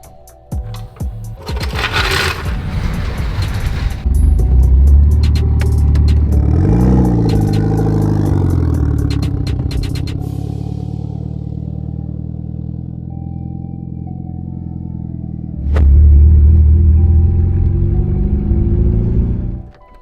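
A Mitsubishi Evo car engine with a newly replaced serpentine belt runs and revs up, rumbling steadily with some clatter, then surges louder near the end as it pulls away; no talking.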